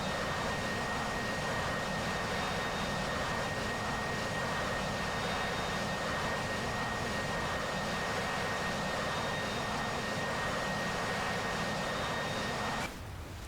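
A steady, even drone from an aircraft engine in a flight simulator video game carries on at moderate level with a constant whine, and cuts off abruptly just before the end.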